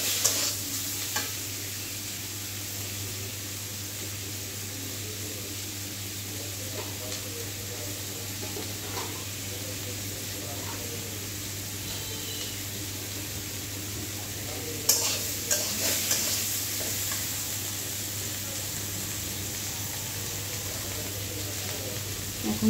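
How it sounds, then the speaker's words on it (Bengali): Vegetables sauté in a pan with turmeric, coriander and chilli powder for a prawn dish, a continuous close sizzle and hiss with occasional stirring scrapes and clatters, no speech. "মশলার সাথে এখন ভালো করে সবজিগুলো কষিয়ে নেব।"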